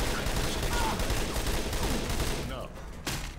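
Sustained assault rifle fire from the video game Left 4 Dead 2, a dense rapid burst of shots running nearly the whole moment before easing off briefly and resuming.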